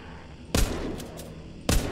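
Two loud rifle shots from the zombie video game The Walking Zombie 2, sharp broadband cracks about a second apart, each followed by a brief tail, with faint game ambience between.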